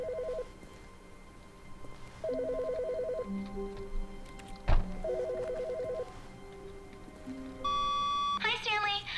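Telephone ringing in The Stanley Parable, repeated electronic ring bursts with pauses between them, fairly clear over a game ambience, with a brighter chime near the end.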